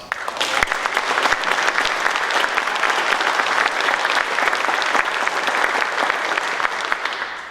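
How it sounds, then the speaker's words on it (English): An audience at a community appreciation night claps in sustained, dense applause, loud and steady from start to finish with no break. "So I just want to give her a round of applause."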